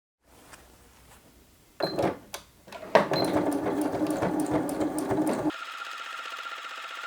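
A sewing machine stitches a fabric pencil case, starting with a few hesitant clicks before running in a steady mechanical whir, then a quieter hum takes over.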